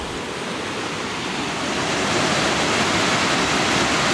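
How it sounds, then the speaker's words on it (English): Fast-moving river water rushes powerfully in a steady, loud, dense roar that swells slightly, with no voices. "That water is moving quick. That's real powerful."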